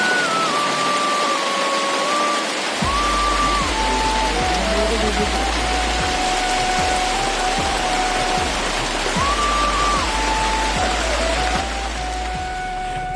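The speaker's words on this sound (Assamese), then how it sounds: "আমি এনেকুৱা বৰষুণ পালোঁ" Heavy rain pours down steadily near Nagshankar temple while people shelter in a small hut, a dense, loud hiss with a low rumble setting in partway, and a tonal whine rising and falling above it.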